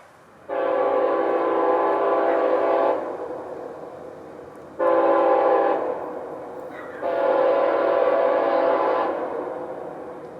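Freight train I-045, a short train bound for Tampa on the S-Line, sounds its horn in three long chord blasts, the first and last about two seconds each with a shorter middle one, loud and fairly near.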